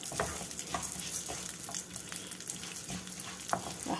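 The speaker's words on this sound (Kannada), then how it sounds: "ಜೀರಿಗೆ ಮೆಂತ್ಯ ಮತ್ತು ಕಡಲೆಬೇಳೆ ಇದನ್ನು ಹಾಕ್ಕೊಂಡು ಚೆನ್ನಾಗಿ ಹುರ್ಕೊಳ್ಳೋಣ" Cumin, fenugreek and chana dal dry-roasting in a pan, a steady close crackle and rustle with bursts of scraping as the spices are stirred, no voices.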